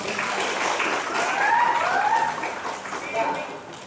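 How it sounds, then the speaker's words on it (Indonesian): Audience applause for guest Pak Firman at a youth talk show on confidence: a broad crowd clapping, swelling in the middle, with voices talking and calling out over it. "Tepuk tangan dulu dong Pak Firman."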